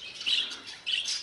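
Texas budgerigars in a flight cage give two quick bright chirps, high and fairly close, with a short gap between them.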